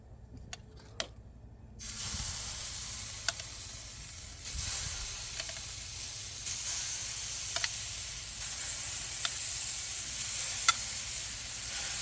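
Beef kefta sizzles on a dry griddle outdoors, a steady bright hiss that swells as another piece goes down, with occasional small pops and clicks over the crackle.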